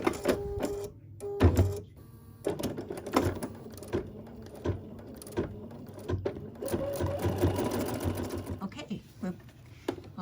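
An embroidery machine stitches out a needle organizer in the hoop, producing rapid rhythmic mechanical tapping and whirring, with a voice speaking over it.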